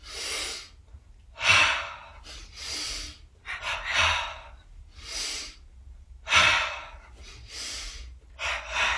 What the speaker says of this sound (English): Double inhale. Double exhale.